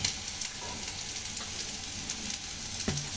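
Spices such as turmeric and coriander powder sizzle in a pan while cauliflower masala cooks, a continuous close frying hiss with faint stirring scrapes and occasional soft knocks, no voices.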